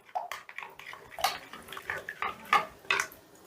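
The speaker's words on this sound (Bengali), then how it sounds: "এবার দইটা মশলার সঙ্গে বেশ ভালো করে মিশিয়ে রাখবো।" Yogurt mixed with spices and a spoon of oil in a bowl, a series of close wet clinks and scrapes in an uneven rhythm, with no voices.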